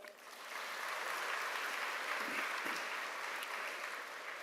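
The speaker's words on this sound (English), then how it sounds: "So I take this opportunity to thank him with your big applause." An auditorium audience at a college freshers' induction programme gives steady, even applause, a soft wash of many hands clapping at a distance that swells briefly and holds for a few seconds.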